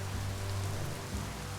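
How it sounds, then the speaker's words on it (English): Steady rain falls in the game Biomutant, a dense, even wash of drops hitting surfaces with a low rumble underneath, constant and fairly loud with no voices. "Oh, is it raining?"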